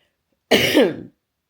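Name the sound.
cough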